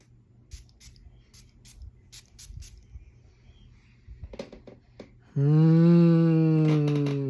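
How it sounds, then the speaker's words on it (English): Several short, airy spritzes of a Chanel Les Exclusifs Comète perfume spray bottle in quick bursts, followed by a long, loud, sustained tonal hum that ends the clip. "Let's go spray this thing right now."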